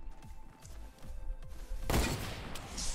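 Gunfire in the Fortnite video game: a quick series of sharp shots, then a louder burst of blasts near the end, fairly quiet overall with little talk.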